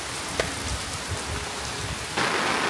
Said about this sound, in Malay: Jalan hujan-hujan.